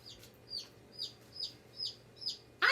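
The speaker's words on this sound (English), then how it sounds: "Soon enough, a chicken came along." A chicken clucking as a sound effect, about six evenly spaced, bright clucks followed by a louder squawk at the end, close and alone.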